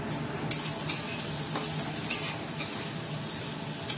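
Tomatoes with salt stirred in a frying pan, a soft sizzle running throughout, broken by a few sharp scrapes and taps of the spoon against the pan at irregular intervals.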